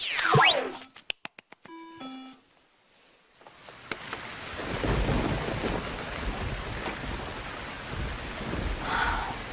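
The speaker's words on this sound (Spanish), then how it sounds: "Ya se soltó la lluvia otra vez." Heavy rain pours steadily with a low thundery rumble underneath, beginning after a few seconds of short tonal beeps and chimes, and it stays loud and continuous to the end.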